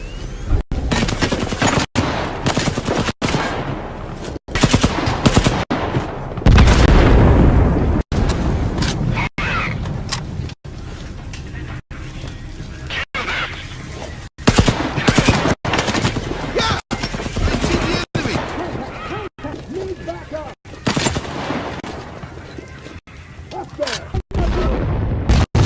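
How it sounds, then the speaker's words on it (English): Explosions and gunfire from the video game Sniper Ghost Warrior 3 fill the scene with loud, dense bursts of shots and heavy booms, repeatedly cut by brief gaps. "Explosion on the perimeter!"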